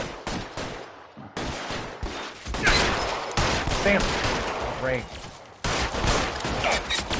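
Gunfire in the crime video game L.A. Noire, repeated shots and bursts crackling across the whole stretch, loud and busy, with a voice talking over parts of it.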